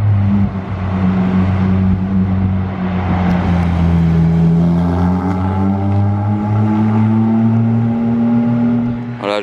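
A Mercedes SLK 55 engine on a Monaco street runs with a loud, steady exhaust drone that swells slightly as it revs, close by and continuous for the whole stretch.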